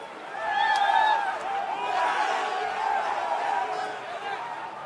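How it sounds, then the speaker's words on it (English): Crowd murmur fills Yankee Stadium after the Detroit Tigers' 3-2 road win in ALDS Game 5, a broad, steady wash of muted voices and scattered chatter with no cheering peaks. "a stunned crowd here at Yankee Stadium"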